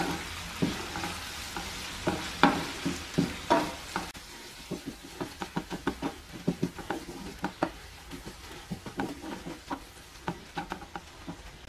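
Shrimp filling for briouats being stirred and sautéed in a pan, a low sizzle broken by repeated scraping and tapping strokes of the spoon in an uneven rhythm.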